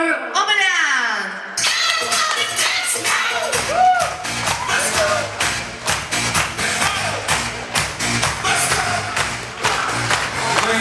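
Wedding guests break into loud, dense applause mingled with lively voices, laughter and background music after a short burst of sound at the start.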